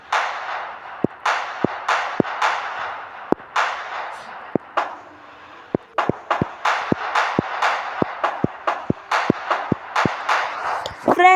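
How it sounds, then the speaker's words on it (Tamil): Firecrackers burst one after another in a New Year fireworks video game, sharp loud cracks at an irregular, fairly quick pace, each trailed by a brief hissing crackle. "ஒன்று தம் தம்முண்டு, இன்னொரு நார்மல் பட்டாசு அடிக்கிற மாதிரி இருக்குது"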